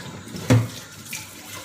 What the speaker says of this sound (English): you take a little bit of running water